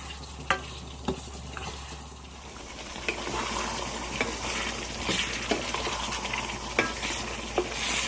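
Pork belly with shrimp paste sizzles steadily in a pan while a spatula stirs it, giving irregular sharp clacks against the metal at close range. No voices are heard.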